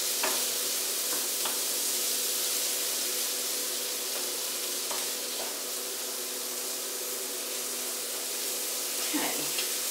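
Chorizo and cheese being mixed in a hot pan for stuffed butternut squash, a steady close sizzle with faint scraping stir strokes now and then, no talking.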